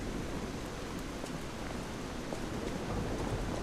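Steady rain pours down on an old town bridge at night in the video game Lies of P, a dense, even hiss that fills the whole clip without pause.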